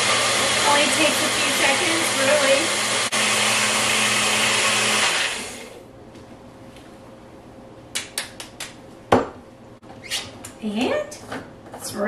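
A Vitamix blender whirs loudly for about five seconds as it purees strawberries, blueberries and flaxseed into a smoothie, then cuts off, followed by faint clicks and light handling sounds of the jar.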